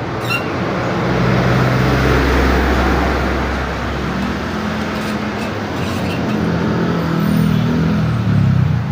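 Steady, loud road traffic rumbles past nearby, with vehicle engines swelling and fading over a constant roar and no speech.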